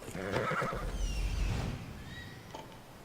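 A horse in Assassin's Creed Odyssey lets out a loud, close whinny lasting about a second, followed by quieter snorting and a few faint hoof clops.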